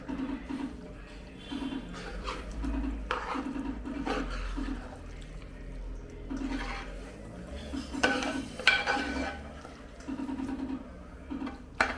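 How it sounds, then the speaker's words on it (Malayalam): A spoon or spatula stirring chicken curry with spice powder in a pan, producing repeated scraping and soft clattering strokes in an irregular rhythm, fairly quiet and close, with occasional sharper metallic clinks. "പൊടി ചേർത്ത് നല്ലപോലെ നമുക്കതിനെ ഇളക്കി യോജിപ്പിച്ചെടുക്കണം"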